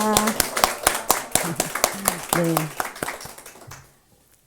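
Congregation in a Korean Sunday church service clapping in a quick, uneven rhythm of close, sharp claps mixed with speaking voices, fading out toward the end.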